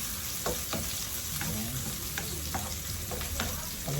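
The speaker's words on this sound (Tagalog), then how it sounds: "Lutuin natin sibuyas din" Onions frying in a pan: a loud, steady sizzle with occasional scrapes and taps from stirring, close up and without talking.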